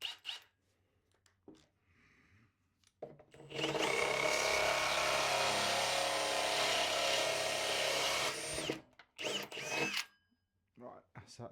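A brand-new power drill fitted with a hole saw bores out holes in a wooden cable drum, a loud continuous grinding whine lasting about five seconds, framed by brief clunks and handling noises before and after.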